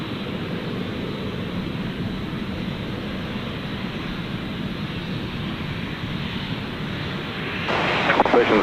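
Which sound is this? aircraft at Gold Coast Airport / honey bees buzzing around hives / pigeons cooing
aircraft at Gold Coast Airport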